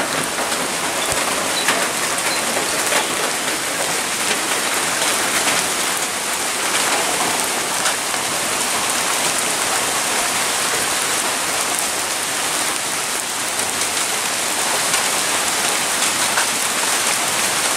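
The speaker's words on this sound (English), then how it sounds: "it's been raining steady for about an hour" Steady rain falls and patters on surfaces in a dense, even hiss, with faint bird coos in the background.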